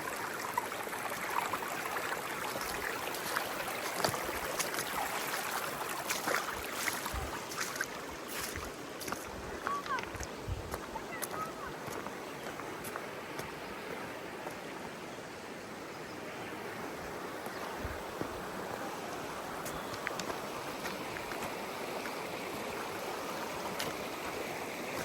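A creek in Montana flows steadily throughout, with a continuous broadband rush and gurgle of running water, fairly close and even in level, with occasional splashy bursts and no voices.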